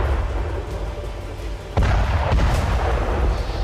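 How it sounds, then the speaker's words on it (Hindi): Phosphorus bomb strikes hit Ukrainian positions in Bakhmut as a continuous low rumble, with one sharp, heavy impact landing partway through and a fainter burst after it. "रूसी फौज यूक्रेनी पोजीशंस पर फास्फोरस बम से हमला कर रही है"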